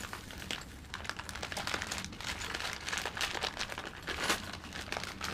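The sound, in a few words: blade cutting off old gas tank strap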